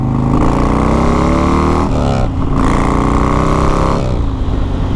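A Big Dog Mastiff custom chopper motorcycle with a big engine revs loud and close, its deep rumble rising and falling through several throttle blips.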